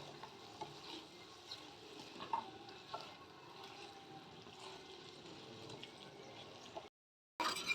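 Crispy fried soybean chunks are stirred through a chilli sauce in a pan, a steady low sizzle with scraping and clattering of a spoon that cuts off briefly near the end before resuming.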